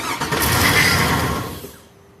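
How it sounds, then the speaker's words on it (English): A 2002 Cadillac Escalade EXT with a no-start fault cranks and catches briefly, the engine roaring for about a second and a half before dying away abruptly, loud and close with no talking. "as you'll see, it cranks over, but it will not stay on"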